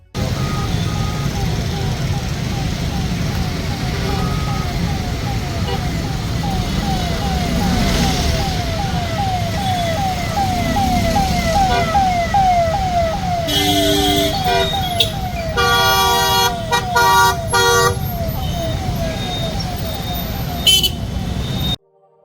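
A siren sounds from a vehicle in a politician's convoy in Baramati. It gives a steady rising and falling electronic wail over traffic and engine noise, joined near the end by short repeated horn-like toots, with no speech.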